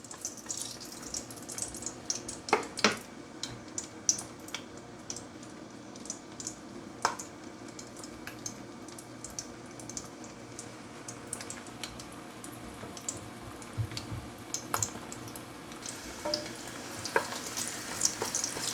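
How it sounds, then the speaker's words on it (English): Garlic and ginger sizzle steadily in hot oil for a Jamaican curry chicken, with a continuous crackling fry and occasional sharper pops and utensil clinks throughout, no talking. "now my oil is hot. I'm gonna add in some garlic and ginger to flavor the oil"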